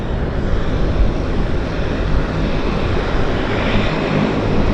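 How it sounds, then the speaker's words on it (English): A de Havilland Dash 8 turboprop airliner of Central Mountain Air, loud and near at Vancouver airport, its propellers and engines giving a steady, broad roar that holds at an even level with no speech over it. "This is a bigger de Havilland, the big brother to the Twin Otter. That's a Dash 8."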